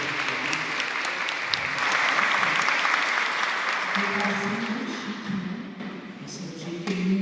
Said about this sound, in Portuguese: um grande salva de palmas